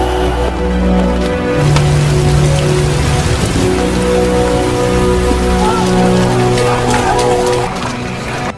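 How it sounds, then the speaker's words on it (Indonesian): Heavy rain pours steadily in a war film scene, a loud dense wash of drops on surfaces with low rumbling underneath, continuous throughout. "hujan pun turun dengan sangat lebat."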